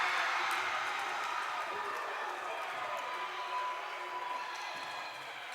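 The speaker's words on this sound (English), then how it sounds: "This crowd is heating up." Crowd at a women's junior-varsity college basketball game between National Park College and Oklahoma Wesleyan University, a steady wash of cheering and murmur that holds fairly loud throughout, with no single burst standing out.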